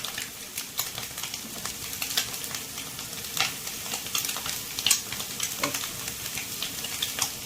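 Sliced onion, thin carrot strips and capsicum stir-frying briefly in a pan for street-style spicy noodles, giving a steady sizzle with frequent scraping and tossing clicks throughout, close and moderately loud.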